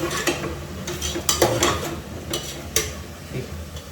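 Vegetables frying in oil for ghee rice kurma, stirred with a utensil that scrapes and clinks against the pan in quick irregular strokes over a light sizzle.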